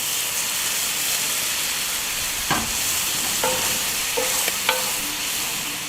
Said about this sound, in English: We're going to fry up that bacon a little bit, let some of that bacon fat render out, and then we're going to throw in the bread.